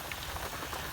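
Steady rain falls outside a shop in Colorado, a dense, even hiss of drops pattering on surfaces, continuous and fairly close, with no voices.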